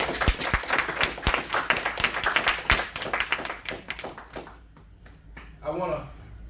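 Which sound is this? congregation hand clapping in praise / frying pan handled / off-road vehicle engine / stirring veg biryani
congregation hand clapping in praise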